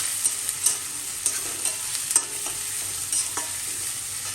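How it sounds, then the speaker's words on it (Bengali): Cumin seeds and onion frying in a pan: a moderate, bright sizzle under repeated light scrapes and clicks from stirring, spaced irregularly across a few seconds. "এখন যাচ্ছে কিছুটা জিরা, যাচ্ছে পেঁয়াজ পুরোটাই ভালো করে লাল লাল করে ফ্রাই করে নেবো।"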